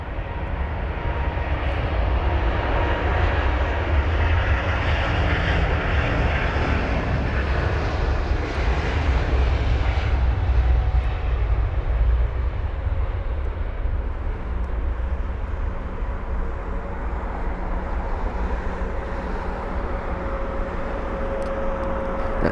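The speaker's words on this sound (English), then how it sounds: "That's the A350 power." A British Airways Airbus A350 bound for Accra roars at takeoff power, a loud, steady broadband jet rumble with deep low-frequency thunder, sustained throughout and gradually easing slightly as it climbs away.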